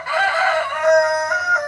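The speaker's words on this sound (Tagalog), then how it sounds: "Bira tong manok na to." A rooster crows nearby, one loud drawn-out cock-a-doodle-doo rising and falling over about a second and a half, heard clearly on its own with no talking.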